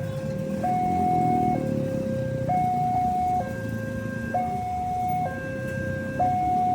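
Railway level crossing warning sounds at a JPL crossing in Indonesia, a steady two-tone alternating signal stepping up and down every second or so, loud and continuous over road traffic rumble as the barrier comes down.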